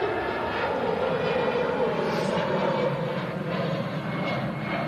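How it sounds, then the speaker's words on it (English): An EasyJet airliner departing for Malaga, a steady broadband engine roar that stays fairly even and distant, with faint talk nearby. "EasyJet on the way out to Malaga."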